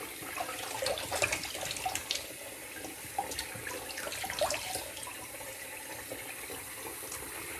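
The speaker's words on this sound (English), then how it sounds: "let's get this water hot." A water tap runs into a sink while the water heats up before a straight razor shave: a steady splashing stream with small irregular gurgles and drips, fairly close, with no talking.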